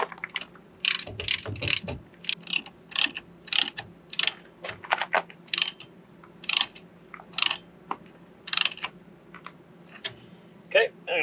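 A ratchet wrench tightens the scissor-style X-chock between the tires of a travel trailer at a campsite, giving a string of quick, sharp clicking bursts up close, with a low steady hum beneath.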